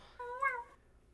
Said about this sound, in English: Of course we come back to the meow.